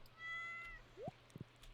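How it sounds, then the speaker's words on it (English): A cat meows in the video game Stardew Valley, a single short rising meow heard clearly over soft background game music and faint ambient sound. "I've never seen the cat jump in this game."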